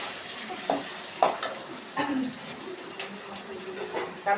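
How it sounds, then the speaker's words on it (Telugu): Tempering spices frying in hot oil for tamarind pulihora, a steady close sizzle with a few sharp crackles and pops scattered through, no talking. "తాలింపు అయితే రెడీ అయిపోయింది."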